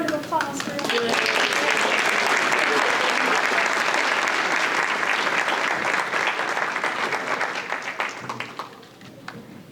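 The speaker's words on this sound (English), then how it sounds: "And a round of applause for Edith." Applause from the audience at a veterans breakfast, a broad wash of many hands clapping that builds fast, holds strong for several seconds, then thins out and fades toward the end.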